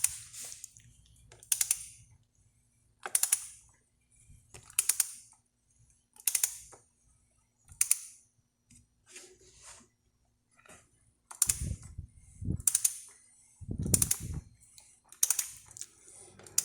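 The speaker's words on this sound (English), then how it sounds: "Turn it slowly until you hear the click." Torque wrench turned slowly on a BMW E46 oil drain during an oil change, producing a series of sharp ratcheting clicks in separate bursts, close and fairly loud with quiet gaps between.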